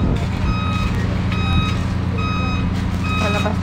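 A truck drives off a ferry at a port, its reversing alarm sounding a steady run of loud, evenly spaced beeps over heavy engine rumble.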